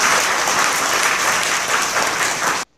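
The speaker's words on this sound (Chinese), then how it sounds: "我们是不是给他一个掌声" A large audience claps loudly and continuously at a China Medical University graduation ceremony, a dense, even roar of applause that stops abruptly.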